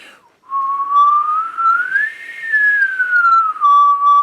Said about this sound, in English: Now let's try the whistle pattern one more time.